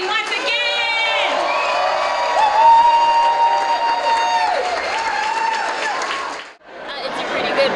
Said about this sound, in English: can we clap for all 20 once again?